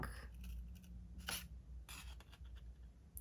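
Scissors snip through paper while making file pockets, a few quiet close crisp cuts spaced irregularly over a faint background.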